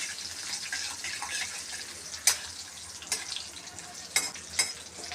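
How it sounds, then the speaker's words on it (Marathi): Curry leaves roast in a pan over a slow flame for a green chilli chutney, giving a steady, fairly loud sizzling hiss broken by a few sharp crackles and pops, with no talking. "त्याची फ्लेम आपल्याला हे स्लो ठेवायची आहे आपल्याला कढीपत्ता छान त्याचे मस्त असं भाजून घ्यायचा आहे"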